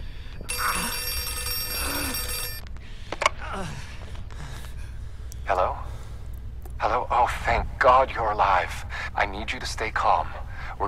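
A telephone rings in the horror video game Outlast 2, a bright electronic ring lasting about two seconds early on, followed by a man's heavy breathing and gasps and then talking.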